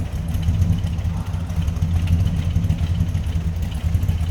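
A 1970 Chevrolet Monte Carlo's ZZ4 350 V8 idles steadily with a deep, lumpy cam rumble, close and continuous throughout, with no talking.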